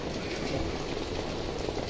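Rain pours steadily, a dense, even hiss of drops close by with no pauses or talk.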